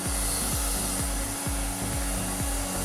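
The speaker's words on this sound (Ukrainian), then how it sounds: "раз повітрудувка заряджена, перевіримо, як вона дує" A homemade cordless mini air blower built from an old hair dryer runs with a steady, loud motorized whir and a rhythmic pulsing flutter, continuously up close.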